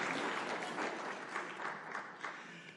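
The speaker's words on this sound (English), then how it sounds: "Round of applause for that," A room full of people gives a steady round of applause at a city council meeting in Irvine, the clapping dense and even throughout, sounding somewhat distant and subdued.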